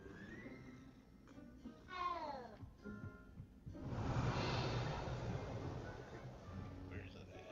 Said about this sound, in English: Pet the kitty.